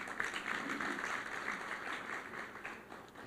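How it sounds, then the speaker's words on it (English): Audience applause at a national occupational health and safety conference, a steady wash of clapping from a sizeable crowd that holds at an even level throughout. "A round of applause again for him."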